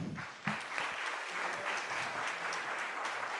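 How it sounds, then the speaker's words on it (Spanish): An audience claps at the closing of a forum session on truth, justice and memory, a dense, even burst of applause that swells at the start and carries on steadily to the end. "Les brindamos un fuerte aplauso."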